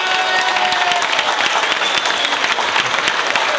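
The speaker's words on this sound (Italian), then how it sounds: "Un applauso a Grispan." Audience applause at an event, a dense, loud burst of steady clapping from a crowd that holds evenly for a few seconds.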